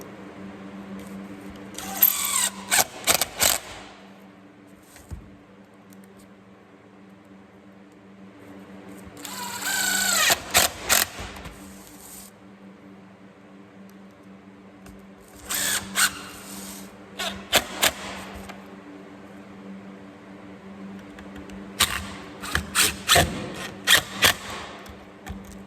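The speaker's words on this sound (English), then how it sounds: "So go around and screw the rest of those off." A power drill driving screws into a board in an art class, several separate bursts of whirring motor at intervals, each with uneven revving and a few short pulses, close and loud over quiet room hum.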